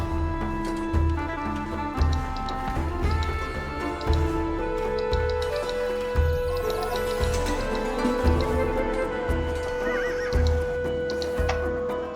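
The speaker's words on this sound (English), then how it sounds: "Nisaean horses from the menagerie in Sardis." Several horses in Age of Empires II: Definitive Edition neigh and whinny repeatedly, with clip-clopping hooves, over steady background music.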